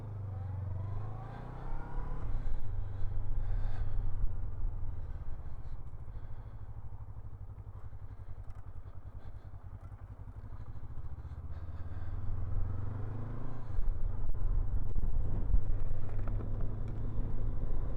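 A 2024 Honda NX500 motorcycle being ridden, its engine droning steadily with rising and falling revs and a harder pull near the end, mixed with wind rush.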